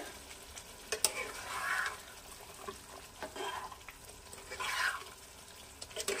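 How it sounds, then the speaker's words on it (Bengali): Bengali-style winter vegetable curry gravy coming to a boil in a pan, giving a soft bubbling and gentle sizzling with faint intermittent pops and stirring sounds, fairly quiet and with no voices. "এখানে ঝোল ফুটে উঠেছে।"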